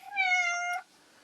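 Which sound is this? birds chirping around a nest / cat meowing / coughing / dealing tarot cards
cat meowing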